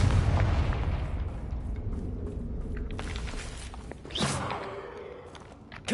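Magical Confringo spell blasts in a video game, with a loud booming burst at the start, lingering rumble, then a sharp whooshing crack later on.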